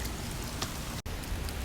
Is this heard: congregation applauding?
no